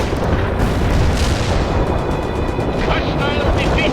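Cluster bomb explosions in the World in Conflict strategy game, a dense continuous rumble of overlapping blasts and bursts, loud and close, with a brief crackling patter near the end and voices faintly mixed in.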